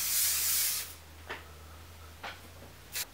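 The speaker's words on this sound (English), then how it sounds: "I'm just going to take some hairspray. This is the Joico Power Spray." A can of Joico Power Spray heavy-hold hairspray releases a long, loud aerosol hiss for nearly a second, then quiet follows with a few short, soft clicks or puffs near.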